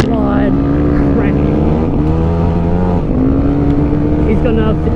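Yamaha WR250R dirt bike riding through sand in a rally, its single-cylinder engine droning loud and close with rising and falling revs throughout, accompanied by heavy wind buffeting and a voice talking over it.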